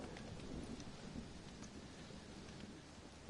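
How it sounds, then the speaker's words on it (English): Steady rain and rumbling thunder fill a thunderstorm in Red Dead Redemption, a dense continuous wash of falling water with low rolls of thunder throughout, no voices. "it's just the storm, John"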